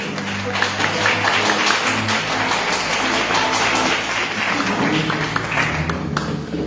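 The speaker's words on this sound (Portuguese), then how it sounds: "Dê uma linda salva de palmas ao Senhor Jesus." A church congregation claps together in a steady, dense wash of applause that holds at an even level from start to finish, with a few faint voices mixed in underneath.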